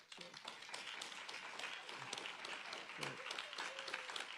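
Division members at an innovation awards ceremony receive a round of applause from the audience, a fairly quiet but continuous wash of clapping with a few faint voices mixed in.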